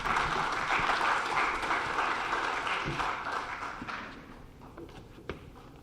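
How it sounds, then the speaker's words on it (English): An audience applauds to welcome a speaker onto the stage at a community event, the clapping loud at first and then thinning out. "Let's give her a round of applause."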